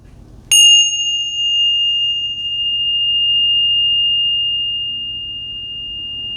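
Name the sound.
bells ringing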